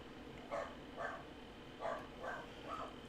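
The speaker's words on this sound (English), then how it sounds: "Sorry about my dog." A dog barks repeatedly indoors, set off by a package delivery, the sharp barks fairly faint and spaced in an uneven rhythm over steady room hum.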